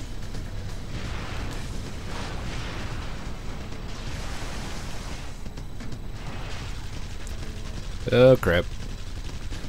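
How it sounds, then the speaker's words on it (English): Gunfire in the inFamous video game, with scattered shots and a brief loud burst near the end, heard under a player's quiet exclamations. "Bullets everywhere."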